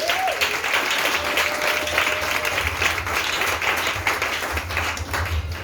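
A church congregation claps and applauds steadily throughout, a dense, continuous wash of many hands at close range, with a brief voice or tone near the start.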